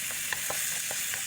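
Garlic and onion sautéing in a pan for a mung bean and tofu dish produce a brief, steady close sizzle with faint crackles, heard alone.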